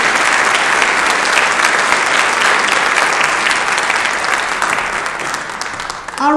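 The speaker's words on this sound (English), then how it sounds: "let's give her a round of applause." Audience applause at a community livestream event, a steady, dense wash of clapping that fills the room and holds for several seconds before thinning slightly at the end.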